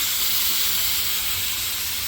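A pressure cooker holding corn kernels releases steam in a loud, continuous hiss that stays steady and close for the whole short stretch, with no talking.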